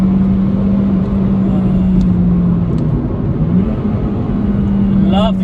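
Honda Civic Type R EP3 heard from inside the cabin, its engine a steady loud drone whose pitch dips and climbs again through a gear shift, with a voice talking over it.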